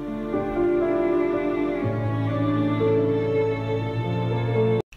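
A solo violin melody rises over orchestral strings and piano in a cinematic arrangement, with sustained bowed notes that shift pitch every second or so. The layers are steady, full and fairly loud, with no voices.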